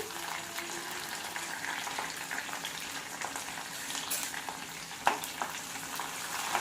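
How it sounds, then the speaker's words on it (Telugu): A tempering of chillies, onion, seasoning seeds and curry leaves sizzles quietly in hot oil, a soft continuous crackle with occasional stirring clinks and pops. "ఇప్పుడు తాలింపుని వేగనిద్దాం కొంచెం."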